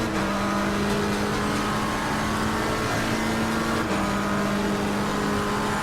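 Race car engine in Assetto Corsa Competizione on PS4 Pro, driven at Silverstone: a steady, loud sustained engine drone with a held tonal hum throughout and a brief shift in pitch near the four-second mark.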